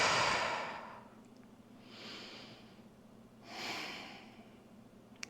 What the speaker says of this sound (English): Full breaths in and out